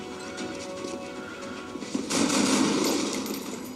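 Gunfire in the game XCOM: Enemy Unknown, a rapid burst of shots building over a constant game music bed, with a louder crashing swell near the end.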